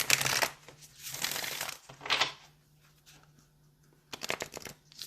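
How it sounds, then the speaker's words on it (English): Tarot cards being shuffled by hand, giving bursts of crisp riffling and papery flutter separated by quieter gaps, close up, with a steady low hum running underneath. "Let's get one more shuffle."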